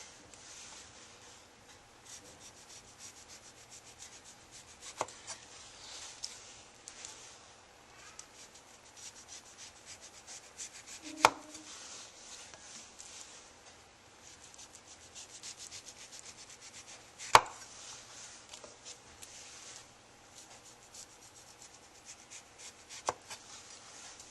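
A knife slicing peel and white pith off an orange, a steady quiet scraping and rubbing with a few sharp taps of the blade on the board, close and alone.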